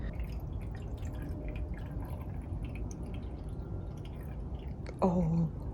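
Fuel sample liquid poured out of a test container splashes and drips steadily close by, a soft continuous wet trickle, ending with a short higher-pitched squeak.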